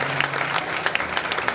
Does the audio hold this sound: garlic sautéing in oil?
no